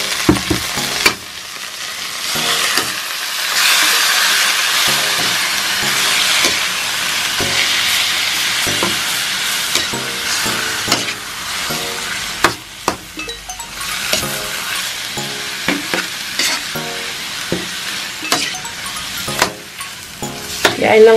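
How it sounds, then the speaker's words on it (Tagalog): Chicken adobo cooking in coconut milk in a pot gives a continuous close hiss of boiling and sizzling, broken by intermittent clinks and stirring knocks. "Naritinig natin na kumukulo na siya"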